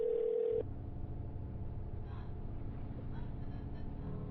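A telephone dial tone sounds as one steady, clear pitch for about half a second and then cuts off abruptly, leaving a low rumbling background.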